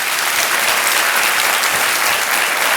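A studio audience at Kaun Banega Crorepati breaks into loud, dense, sustained applause that fills the whole short stretch evenly, with no voices over it.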